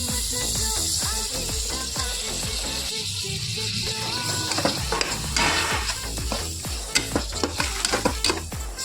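Tomatoes and ginger garlic paste for chicken biryani are stirred and fried in a pan, with a steady sizzle under repeated scraping stir strokes at close range and no speech.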